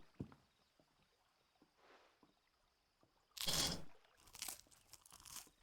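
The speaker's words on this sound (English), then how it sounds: "That's some crunchy ass bread." Crusty tavern bread being bitten and chewed in Final Fantasy 16, heard as a loud close crunch followed by a run of quicker, rougher crunching bites, after quiet background ambience.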